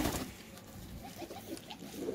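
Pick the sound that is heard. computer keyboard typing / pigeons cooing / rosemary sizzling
pigeons cooing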